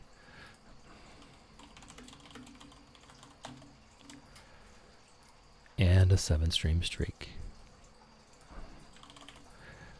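Soft keystrokes on a computer keyboard patter steadily during a calm Stardew Valley farming session, with a person talking over them and a brief louder burst of typing midway.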